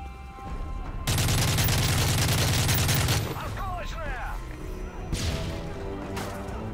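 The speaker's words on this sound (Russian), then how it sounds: "Да просто в нее стреляй из пулемета." Sustained machine gun burst in Call of Duty: Modern Warfare 3, loud and close for about two seconds, followed by scattered shots and clatter with talking over the top.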